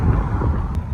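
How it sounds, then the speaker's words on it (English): Strong wind buffets a roadside rest area on a very windy, chilly day, a steady low roar and rumble that stays loud throughout with no pause. "very windy and very chilly now"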